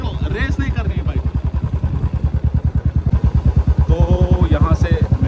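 A motorbike being ridden, its engine thumping in a rapid, steady beat close by throughout, while voices talk over it.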